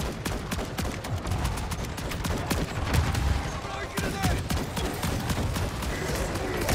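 A dense, continuous burst of rapid automatic gunfire in the Call of Duty MW3 zombies mode pounds steadily throughout, loud and close, with players talking over it.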